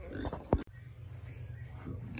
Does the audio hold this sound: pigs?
yes